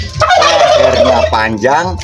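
A turkey gobbles loudly and close by in a long rattling burst, followed by a second shorter gobble.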